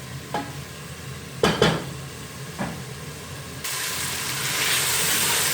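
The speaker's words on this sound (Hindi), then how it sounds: "इसको हम 2-3 मिनट और भूनेंगे" Ground beef frying in a pan with a soft steady sizzle, a few scraping stirs of a spoon, then the hiss grows louder and fuller.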